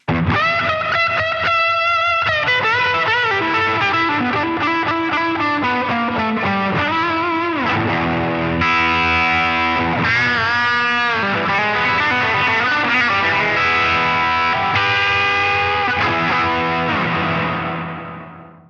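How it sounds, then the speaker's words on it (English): An electric guitar played through the plate reverb setting of a NUX Atlantic pedal. Chords and single notes ring out with a distorted edge and a lush decaying tail, a steady passage with no talk, ending in a fade. "That was actually the plate reverb."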